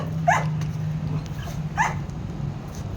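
A dog whimpers and gives a couple of short, high yips or barks close by, over a low steady hum. No one talks.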